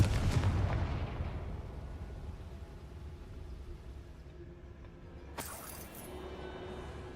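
A Confringo fire spell bursts in the Hogwarts Legacy video game, a loud booming blast at the start that rumbles and fades, followed later by a sharp crackling impact.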